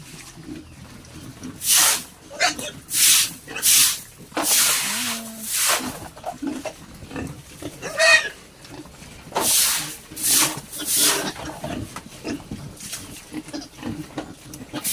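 Piglets about one and a half months old eat hungrily at a feeder, making loud, repeated grunts and squeals in rhythmic bursts, close by, with crunching and snuffling in between.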